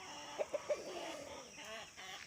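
A few short clucks from a chicken near the start, then a low steady background hum.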